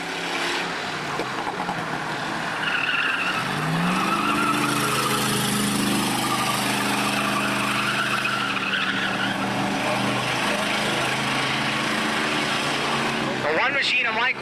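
Race-car engine screaming at high revs during a July 4 enduro race, a loud sustained whine rising and holding near the limit, with tire noise and a commentator talking over it before a sharp shift near the end.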